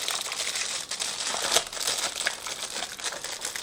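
Plastic packaging of a two-piece hair trimmer set being worked open, continuous close crinkling and rustling with a sharper crackle midway, no talk.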